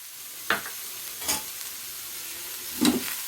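Cabbage and carrot are stirred into softened onion in a pan, giving a low sizzle with three separate scraping stir strokes spread out across a quiet few seconds.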